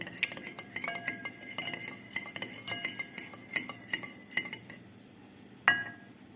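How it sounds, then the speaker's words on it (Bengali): Two eggs being beaten in a bowl, a quick run of light metallic clinks and taps against the bowl in an uneven rhythm, close and fairly quiet, with a sharper clink near the end. "এরপরে আমি ডিমটা ভালো করে বিট করে নেব।"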